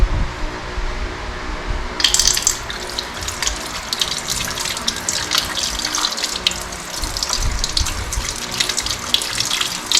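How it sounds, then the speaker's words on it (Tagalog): Hands rinsed under a running tap, a steady loud rush of water starting abruptly and pouring continuously into the sink, with no talking. "the last step is rinse and dry well with a clean towel."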